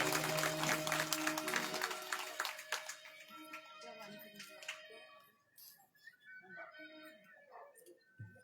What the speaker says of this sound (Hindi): जरा एक बार ताली सेवा भगवान।